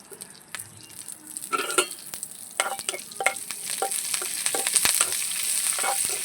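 Two dried red chillies, whole cumin and curry leaves hit hot oil in a pan, giving a crackling sizzle that swells and stays loud, broken by close spatula stirs and clinks, with no talking.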